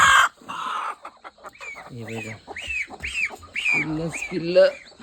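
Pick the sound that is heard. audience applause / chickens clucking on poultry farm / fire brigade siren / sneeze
chickens clucking on poultry farm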